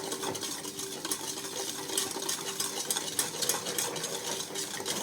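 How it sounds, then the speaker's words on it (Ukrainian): Sugar and oil being stirred in a bowl for eggless water-based cookies, a steady scraping swirl with small clinks of the spoon against the bowl, close and continuous without talk. "Тоді виливаємо сюди олій і розмішуємо також."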